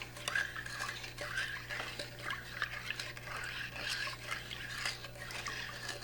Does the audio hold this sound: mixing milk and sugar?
yes